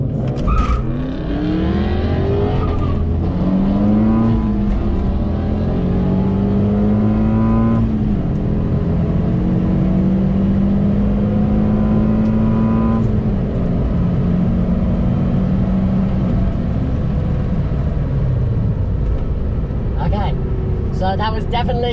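An MK2 Ford Focus ST launches down a quarter-mile drag strip, its engine loud and close as it revs and climbs through several gears with clear shift breaks, a continuous roar across the whole run.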